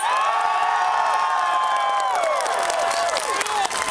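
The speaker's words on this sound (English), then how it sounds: "Clap your hands." A protest crowd at a Hmong American rally cheers, whoops and shouts loudly in a sustained roar, with clapping mixed into the dense, continuous noise; voices rise and fall throughout.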